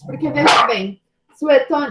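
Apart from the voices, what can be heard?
dog barking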